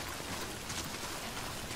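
Rain falls in the video game Death Stranding as a steady, even hiss that fills the background without pause or distinct drops.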